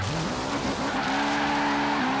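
Subaru WRX STI drifting across gravel in Forza Horizon 3, its engine holding a loud steady drone that climbs in pitch and then settles, with tyre scrub and loose-surface rush running throughout.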